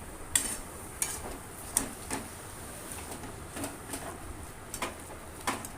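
Taro leaf greens stirred in a wok, a faint sizzle beneath repeated light scrapes and clinks of a spatula against metal, arriving at an irregular rhythm.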